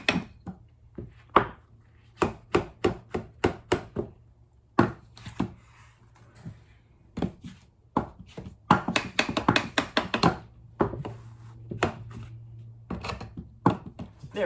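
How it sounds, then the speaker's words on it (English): Sharp tapping and smacking on a wet plaster mold to knock out air bubbles. The hits are close and come in uneven rapid bursts and single knocks with short pauses, over a faint steady hum. "smack it with this and knock any bubbles off"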